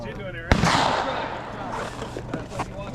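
A hunting shotgun fires once at a clay target, a sharp loud blast followed by a short decaying echo, with people talking faintly afterward.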